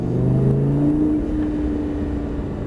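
Lamborghini Gallardo engine droning steadily under acceleration on the Abbeville circuit, a loud in-cabin hum with rising and shifting harmonic tones, no talking.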